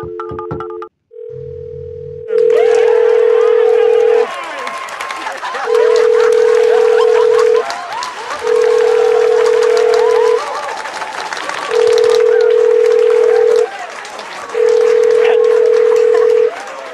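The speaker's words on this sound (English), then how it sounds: "Doug, you know, we should call NASA and refresh their memories about who landed there first" A telephone call to NASA: a short burst of touch-tone dialing is followed by a steady ringback tone pulsing five times at regular intervals, heard over a busy crowd-like background wash.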